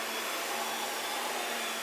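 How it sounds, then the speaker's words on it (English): A Panasonic MC-CG917 Opti Flow canister vacuum cleaner runs with a loud, even, unbroken whooshing drone, close by and alone. "now we are able to vacuum all the way up against the wall"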